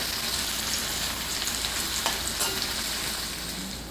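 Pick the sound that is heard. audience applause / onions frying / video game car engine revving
onions frying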